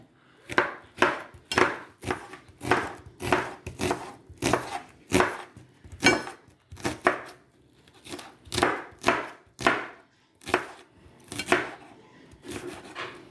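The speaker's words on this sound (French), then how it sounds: "Alors, je vais couper l'oignon." An onion being chopped on a board: a regular series of about twenty crisp knife strokes, evenly spaced and close, with no talk.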